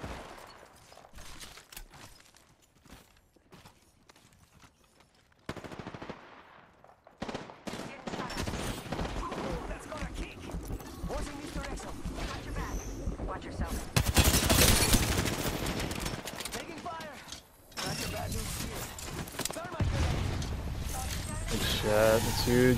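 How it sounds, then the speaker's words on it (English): Rapid automatic gunfire in the Apex Legends video game, with a sparse stretch of shots before a pause, then dense continuous bursts and heavier blasts as a player talks over the fight. "They're shooting at me!"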